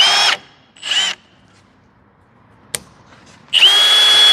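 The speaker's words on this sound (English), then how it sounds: "I'm just going to drill 2 holes." A power drill with a 5/16 bit whines in two short bursts, pauses through a quiet stretch with a sharp click, then spins up again, loud and close.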